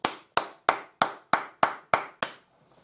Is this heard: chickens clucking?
no